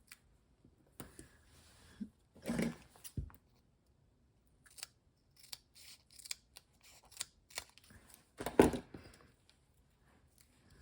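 Scissors snip through dimensional adhesive pieces for a paper craft card, giving scattered crisp cuts of varied strength at close range with quiet gaps between them and no talking.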